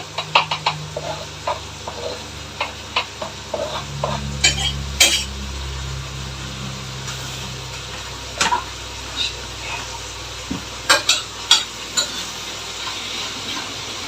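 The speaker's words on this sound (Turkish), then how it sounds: "Kıymayı attım kavrulsun diye soğanlarla birlikte kavrulsun" Ground beef and onions sizzle softly in a pan as a utensil stirs and scrapes, with scattered close clinks and knocks over a steady frying hiss and no talk.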